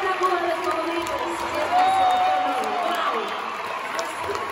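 A concert crowd at the Auditorio Nacional in Mexico applauds and cheers, a loud, dense roar of clapping with shouts and whistles rising through it.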